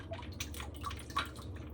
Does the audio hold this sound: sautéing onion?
no